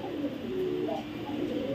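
Red checker pied racer pigeons coo in a steady low murmur, close and fairly loud, with a voice running faintly beneath the brief burst.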